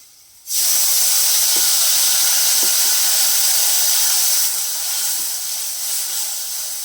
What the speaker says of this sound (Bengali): হালকা করে কম করে বন্ধুরা একটু জল দিয়ে দিলাম